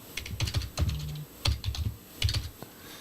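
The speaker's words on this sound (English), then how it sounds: "You banging the hell out them keys." Hard, fast typing on a computer keyboard, loud clattering bursts of keystrokes in three quick runs separated by short pauses, close by with no voices.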